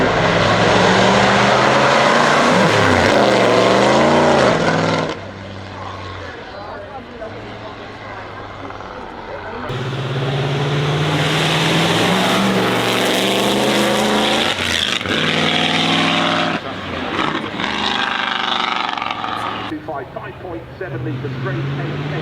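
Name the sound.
Mercedes-Benz W125 racing car engine, 5.7 litres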